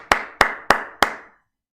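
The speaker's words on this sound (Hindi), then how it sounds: "तालियां तालियां भाई" Four sharp, evenly spaced claps ring out close by in a class, each with a short echoing decay before silence.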